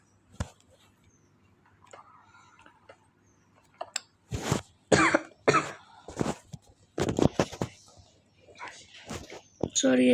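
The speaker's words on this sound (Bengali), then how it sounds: "সরি গাইস, আমি একটু কাশি দিলাম" A single short cough rings out early in a quiet room, followed by bursts of soft speech-like sounds and clicks.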